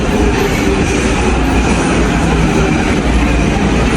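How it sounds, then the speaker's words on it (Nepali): A loud train to Nagoya, Japan rumbles close by as it arrives at the station, a steady roar of wheels and rail noise filling the whole stretch. "हाम्रो नागोया जाने ट्रेन ठ्याक्कै आइपुग्यो"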